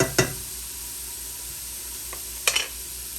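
Garlic frying in a pan as the base of a red sauce gives a soft, steady sizzle throughout, broken by a few brief utensil clinks and stirring scrapes near the start and toward the end.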